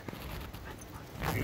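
A dog panting close by after a long car ride, quick soft breaths with faint whimpers, quiet and short.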